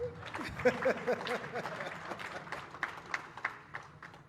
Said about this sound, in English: Can I get another round of applause, please?